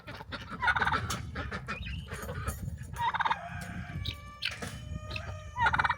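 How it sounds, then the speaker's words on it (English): Chickens on a Christmas tree farm call repeatedly nearby, loud bursts of gobbling and clucking in uneven clusters, with rustling farmyard noise between them and no talking. "you can't forget to feed the chickens and let them out"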